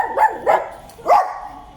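A dog barks three times outside a veterinary clinic in Albania, short sharp woofs close by and loud, with a brief pause before the third bark; no talking.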